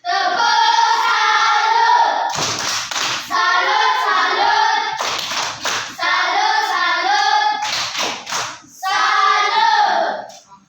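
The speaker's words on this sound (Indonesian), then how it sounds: "Tepuk salut untuk kelompok 2 dulu." A school class gives a group a rhythmic clap-cheer, a sung chant broken by bursts of quick group hand claps. The chanting and clapping take turns several times, loud and close.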